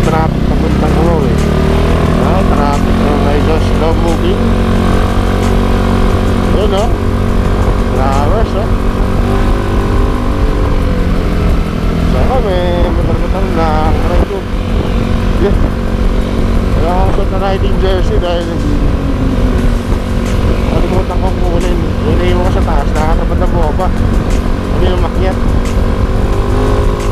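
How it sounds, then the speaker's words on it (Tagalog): Sunday traffic on Marquez Highway rumbles steadily, motorcycle and car engines droning up close and loud with a constant low hum, individual bikes whining past now and then amid the congestion. "Traffic."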